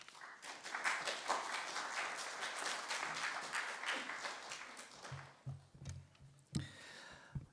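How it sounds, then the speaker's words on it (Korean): A church congregation claps warmly to welcome a pastor to the front, dense applause filling the room for about five seconds before thinning into a few scattered claps and low murmurs. "우리 목사님 나오실 때 뜨겁게 우리 환영의 박수 부탁드립니다."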